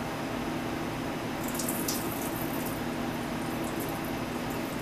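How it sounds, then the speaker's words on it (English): Rice gets rinsed under running water for tofu fried rice, a constant full splashing hiss from the tap, with brief brighter sloshes of the grains being stirred partway through. "Just wash it until the water looks clear."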